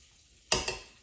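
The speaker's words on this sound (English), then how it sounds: "I hear that butter sizzling" Butter sizzles in a pan before flour is whisked in for a roux, a sudden hissing flare followed by a second smaller burst, both fading over half a second.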